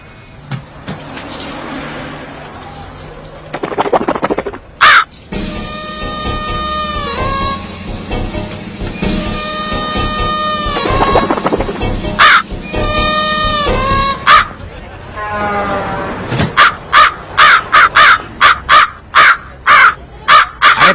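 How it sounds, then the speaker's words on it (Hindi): Crows caw repeatedly in loud, harsh calls, first in long runs of several caws and then in a quick sequence of short separate caws, with faint background noise in between. "कौवे का आवाज आ रहा है भाई"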